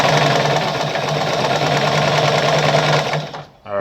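Pioneer semi-industrial heavy-duty sewing machine stitching at a short stitch length, a loud, fast, even mechanical chatter running without pause before cutting off abruptly near the end.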